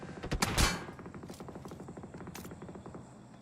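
Rapid bursts of gunfire in the PUBG Mobile battle royale, a couple of sharp loud cracks early followed by a steady quick rattle of fainter shots fading toward the end, no talk.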